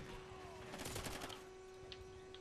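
Gunfire in the shooter Call of Duty: Ghosts, a rapid burst of automatic shots around the middle followed by a couple of faint isolated pops, quiet and distant-sounding under a steady tone.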